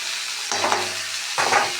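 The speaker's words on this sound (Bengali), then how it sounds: "একটু নাড়াচাড়া করি সমস্ত সবজি দিয়ে দিলাম" Mixed vegetables including cauliflower, eggplant and radish stirred and frying in a pan for a vegetarian curry, with a steady sizzle and two brief bursts of stirring scrapes.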